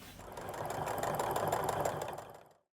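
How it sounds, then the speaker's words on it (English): A sewing machine runs steadily for about two and a half seconds, stitching close along the edge of a fabric backpack, a fast continuous mechanical whir at a close, even level before stopping abruptly. "now I'm just going to stitch as close to the edge of the stitch as I can using my sewing machine"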